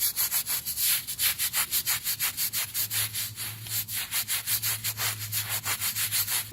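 Brisk back-and-forth scrubbing of an oil stain on a concrete driveway, with rapid rhythmic rasping strokes, close and loud, continuing evenly without pause.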